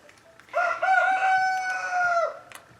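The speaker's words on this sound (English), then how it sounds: "roosters." A rooster crows nearby in one long, loud cock-a-doodle-doo lasting about two seconds, heard alone against a quiet outdoor background.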